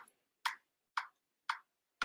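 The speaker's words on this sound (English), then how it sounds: "So you hear the clicking, that's a metronome." A metronome clicks steadily during a pop/rock vocal coaching session, with sharp, evenly spaced ticks about half a second apart and silence between them.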